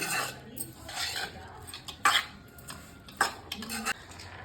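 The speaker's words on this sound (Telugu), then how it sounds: "సో మా మమ్మీ అయితే మిక్స్ చేస్తుంది ఫ్రెండ్స్." Samosa filling is stirred in a bowl with a spoon, giving irregular scraping and clinking knocks against the bowl's sides, close and fairly quiet, with two sharper clinks among softer stirring.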